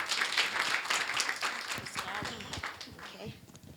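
People at a young women's dialogue event clap for a speaker named Julia from a funeral company, with moderate applause mixed with murmuring voices that fades as it goes on.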